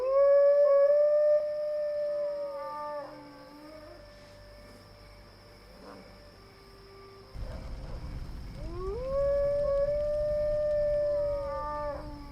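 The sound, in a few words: wolf howling, from the video game Drakensang: The River of Time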